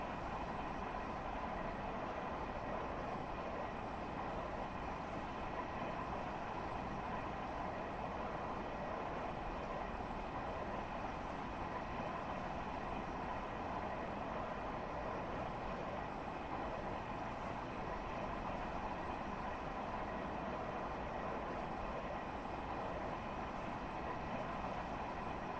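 A Long Island Rail Road train runs underground through a tunnel, giving off a steady, dull, droning rumble that holds at a low, even level the whole time with no voices.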